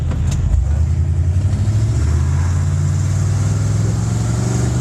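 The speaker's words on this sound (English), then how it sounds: "Motor sounds good." A 1969 Mercury Cyclone Spoiler II muscle car V8 idles steadily and loudly up close, a deep continuous rumble with a slight lope running throughout, no talking over it.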